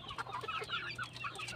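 Rhode Island crossbred chickens from a farm flock, bred with an Asil or giant rooster, cluck softly and repeatedly in a quiet, close cluster of short chirping calls.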